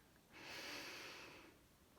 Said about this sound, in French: je vais prendre une grande respiration profonde